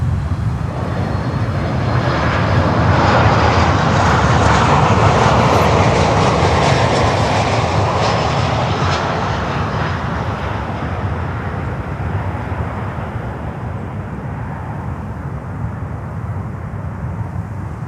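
A Copa Airlines airliner from Panama roars past, a loud, steady broadband jet rumble that builds slightly and then slowly recedes, with no talking.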